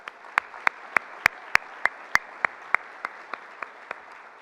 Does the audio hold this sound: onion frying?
no